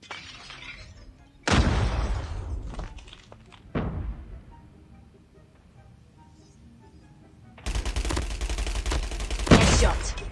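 Gunfire from Call of Duty Mobile comes in sharp loud bursts, a short volley, a single crack, then a longer rattling stretch with quieter game noise between.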